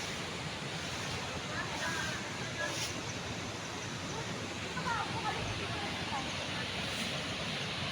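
A waterfall in Bolinao gives a steady, loud rushing roar that runs without a break, mixed with wind buffeting the microphone.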